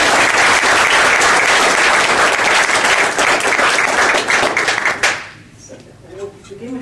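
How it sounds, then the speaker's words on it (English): A crowd applauds loudly for retired military leaders at a panel event on closing the Guantanamo detention center, a dense sustained clapping that cuts off abruptly near the end, leaving a quiet room. "So let's have a round of applause for these."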